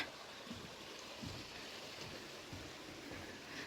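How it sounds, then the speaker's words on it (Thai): A small forest stream in summer flows with a steady, broadband watery wash, continuous and fairly quiet throughout, with no voices. "อันนี้ก็เป็น ลำธารเล็กๆนะคะ เป็นสตรีมเล็กๆ"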